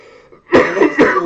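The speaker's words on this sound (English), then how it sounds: "I apologize for the cough" A man coughs and clears his throat in two rough bursts, close and loud, after a brief moment of quiet room tone.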